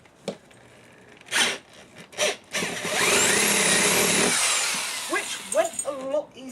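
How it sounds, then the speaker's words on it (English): A power drill whirs steadily for a couple of seconds, preceded by short handling bumps and followed by brief talking. "So let's drill this hole."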